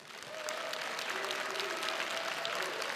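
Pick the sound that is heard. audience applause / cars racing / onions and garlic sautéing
audience applause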